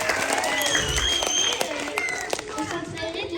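An audience applauds a child, a dense, continuous burst of clapping with voices mixed through it and some talking over the top.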